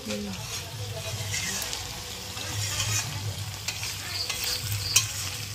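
Clam meat and potatoes frying in a pan while being stirred, giving a steady soft sizzle with scraping and clinking of the spoon and a brief sharp clack near the end.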